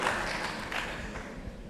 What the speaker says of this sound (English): A big applause also for Brave.